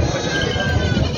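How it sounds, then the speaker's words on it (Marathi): Goats at a crowded livestock market in Vasmat bleat amid a dense, loud murmur of nearby animals and background crowd noise. "खूप चांगल्या क्वालिटी शेळ्या आलेल्या आहेत आणि बकरी पण आलेली आहेत"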